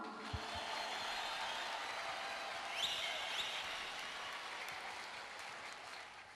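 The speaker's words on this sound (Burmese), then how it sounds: "လက်ခုပ်တီးပေးရအောင်" Audience applauding a music band at a live concert, continuous dense clapping held steady for several seconds, fairly distant and even.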